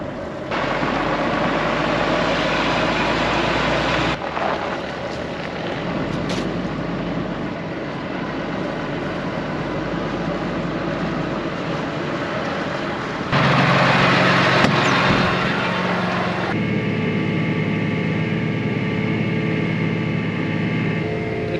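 A truck hauling a fertilizer wagon on a long drive between farms, a loud steady engine drone and road rumble throughout, with a brief louder surge partway through and no voices.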